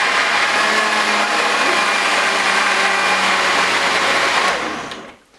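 A blender whirs loudly and steadily as it grinds soybeans with cold water, then winds down and stops near the end.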